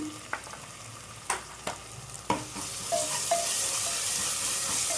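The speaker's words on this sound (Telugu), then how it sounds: "ఇది కొంచెం పచ్చివాసన పోయేంత వరకు వేగించుకోవాలి" Tomato with salt frying in a pan for a drumstick-leaf dal, a steady sizzle with several sharp clinks and scrapes of a spatula early on, the hiss building and filling out toward the end with no talking.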